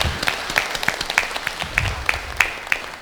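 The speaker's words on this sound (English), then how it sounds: "Give him a big round of applause." Audience applause after a keynote lecture at an academic conference, loud close clapping from a crowd in a hall, with sharp individual claps standing out over the steady patter.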